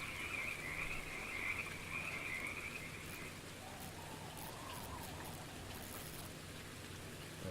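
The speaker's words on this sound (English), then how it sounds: "I hear frogs." Frogs croak steadily in a virtual fishing spot within Ultimate Fishing Simulator, a continuous chorus over a soft rain-like wash with no one talking.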